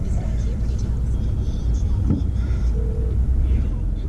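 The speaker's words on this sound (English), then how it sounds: "where we have to wait for cars to come through." Cars on London Street in New Westminster pass by at close range, a steady low rumble of road traffic and engines with voices faintly in the background.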